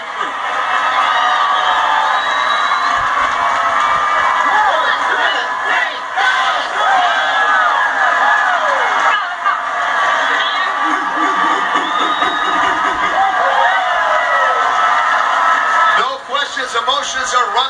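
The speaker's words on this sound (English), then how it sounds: "They got the hometown crowd, a lot of friends and family in the house." A hometown crowd of friends and family roars and cheers at a RollerJam roller derby game between the Florida Sundogs and Hot Dice, a loud, continuous wall of shouts and whoops throughout.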